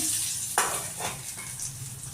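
Tempering spices hit hot oil in a pan, a brief sharp sizzle burst followed by softer crackling and a few light stirring and utensil clinks, close and fairly quiet.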